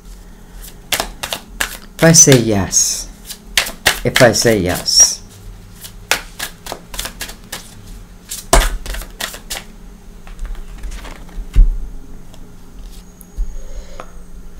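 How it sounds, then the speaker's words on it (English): Tarot cards being shuffled by hand, with soft papery riffles and crisp clicking flutters through the clip, heard close up under and between a person talking. "I'm just one more shuffle, I promise"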